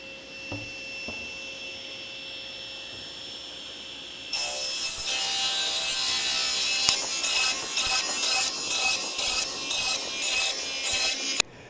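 Strips of wood cut on a power saw for a small trim-router flattening sled: a machine whine starts partway through, then a run of loud, repeated cutting passes with short dips between strokes, alone with no talk.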